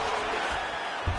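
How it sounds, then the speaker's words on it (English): A crowd at a mixed martial arts fight event roars as the fighters get back to their feet, a dense sustained wash of cheering heard from within the arena. "huge pop from the crowd as the fighters get back up to their feet"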